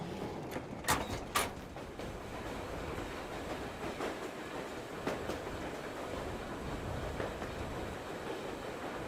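A train rolling along in the video game Metro Exodus, a continuous low rumble with a few sharp clanks early on, moderately faint and steady, no talking.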